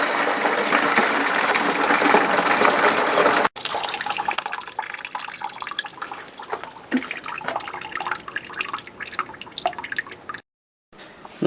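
Coolant pours from the loosened hose on the radiator of a 1998 Fiat Cinquecento into a bucket, a steady close splashing trickle that shifts in tone partway through and runs on with no talk.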